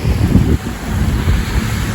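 Sea waves wash along Pattaya beach during a seaside kite festival, under a loud, steady roar of wind buffeting the microphone, with no talking.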